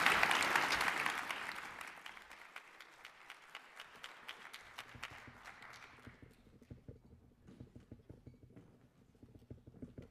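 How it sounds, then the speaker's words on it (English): Audience applause in a hall after a panel at a conference on the future of war, a loud burst of clapping that fades into sparse scattered claps over several seconds. "Please join me in a round of applause."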